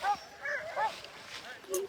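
Sled dogs at the Tolsona Lake checkpoint of the 2022 Copper Basin race, in -40F cold, give wavering, rising and falling howls and yips at moderate distance, several voices overlapping over a faint background.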